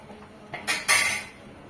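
A lid set over a pan of poha, two quick metallic clanks close by, a short bright clatter followed by a softer ringing settle.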